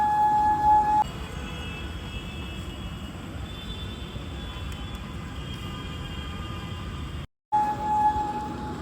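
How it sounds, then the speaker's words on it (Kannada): Trains rumble steadily at KSR railway station in Bengaluru, with a low continuous roar, a faint tonal hum and a brief horn-like tone near the start and end. "ಸೊ ಈಗ ಜಸ್ಟ್ ಮೆಟ್ರೋ ಎಕ್ಸಿಟ್ ಆಗಿ KSR ರೈಲ್ವೆ ಸ್ಟೇಷನ್ ಬಂದಿದ್ದೀನಿ."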